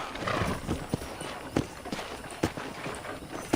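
Horse hooves clip-clop at a steady walking rhythm in Red Dead Redemption, mid-distance against soft ranch ambience, with occasional heavier hoof strikes.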